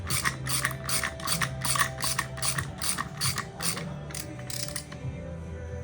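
Fast repeated ratchet clicks in short bursts, close and clear, as a bolt is tightened through the bracket of a universal wheel kit on snowmobile skis, with a faint mechanical hum underneath.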